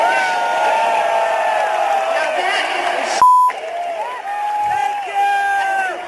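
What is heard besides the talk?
crowd cheering at a concert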